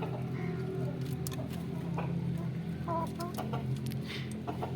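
A hen clucks a few times amid a steady farmyard background hum, with scattered soft rustling and pecking sounds.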